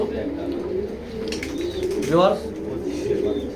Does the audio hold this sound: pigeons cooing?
yes